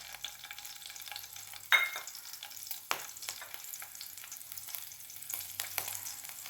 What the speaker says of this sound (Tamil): ரெண்டு பச்சை மிளகா அந்த எண்ணெயில் போடுறேன்